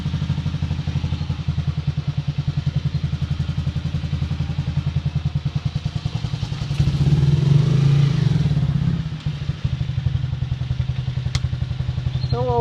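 A Honda CG 125 motorcycle engine idles close by with a fast, even single-cylinder putter, rising briefly to a louder rev midway before settling back to idle.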